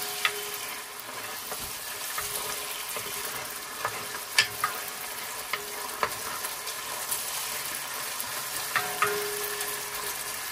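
Ragu alla napoletana sizzling in a pot while being stirred, a steady close frying hiss with occasional sharp spoon clinks and scrapes against the pot.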